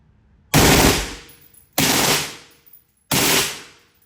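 An AR rifle fitted with a Super Safety fires three loud, close bursts at an indoor range, each a dense roar cut off sharply, with short pauses between them.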